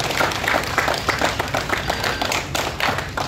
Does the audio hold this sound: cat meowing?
no